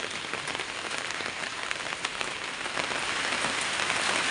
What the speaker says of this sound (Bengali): তো এখনও এই যে বৃষ্টি হয়েই যাচ্ছে